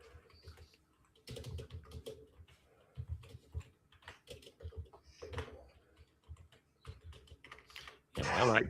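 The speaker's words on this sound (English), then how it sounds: "I'm just typing off." Irregular bursts of computer keyboard typing, close and fairly quiet, with short pauses between runs of keystrokes and a louder burst at the end.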